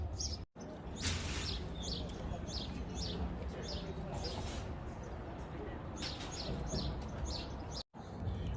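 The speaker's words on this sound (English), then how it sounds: "Man, listen to them birds." Small birds chirp in repeated short, high tweets outdoors in Oatman, Arizona, on old Route 66. The calls come in clusters over a constant hiss of background noise.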